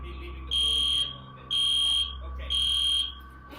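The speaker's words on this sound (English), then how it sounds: "After a while, the fire alarm goes off, and the students retreat from the classroom." School fire alarm going off after an earthquake, sounding three evenly spaced loud electronic beeps about half a second long each, over a low steady rumble.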